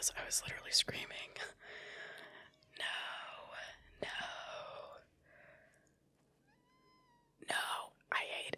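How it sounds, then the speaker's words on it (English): A cat in the video game Stray lets out several drawn-out, mournful wails and moans with quiet gaps between them, sounding plaintive and sad. "the cat makes this sad sound and it makes me wanna cry"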